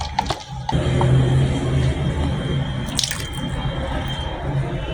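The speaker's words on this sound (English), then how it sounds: "So I'm adding in my melted salt, and after adding it I'll stir it for 10 minutes" Melted salt water poured into a homemade multipurpose liquid soap mixture, giving a continuous close splashing trickle with a few clinks and drips.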